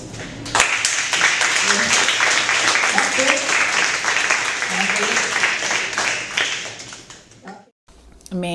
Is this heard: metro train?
no